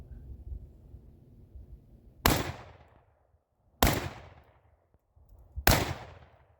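A Panzer EG200 shotgun fires triple-aught buckshot outdoors during field testing: three loud, sharp blasts spaced about one and a half seconds apart, each ringing off briefly before near silence.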